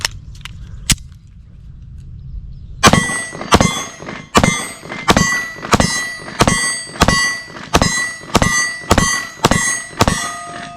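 An HK CC9 pistol fired in a rapid string of about eleven sharp, loud shots at a steady pace with ringing tails, after a short quiet stretch with a few faint clicks at the start.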